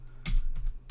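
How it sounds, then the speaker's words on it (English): A few close computer keyboard keystrokes for a Raspberry Pi terminal command, three crisp separate clicks within under a second. "We're going to type watch"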